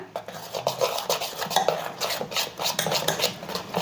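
A spoon stirs thin batter for crispy spinach bhaji in a home kitchen, making rhythmic wet scraping strokes against the bowl, close and moderately loud, with no talking.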